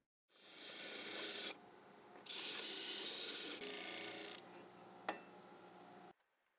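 Sandpaper rubbed by hand across a metal mill bed gives steady, close rasping strokes in several long passes with brief pauses between them, ending in silence.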